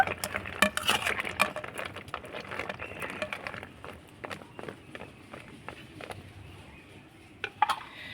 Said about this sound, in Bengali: এবার গরম সেরার মধ্যে আমি মিষ্টিগুলো দিয়ে দেব আর এইভাবে করে চামচের সাহায্যে একটু নাড়াচাড়া করে নেব